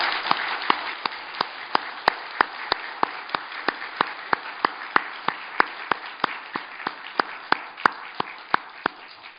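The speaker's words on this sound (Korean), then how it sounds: "하나님께 영광의 박수를 올려드립니다." A church congregation claps through an Easter resurrection service, a steady dense wash of applause with sharp, regular louder claps on top, like clapping along in time, with no talking.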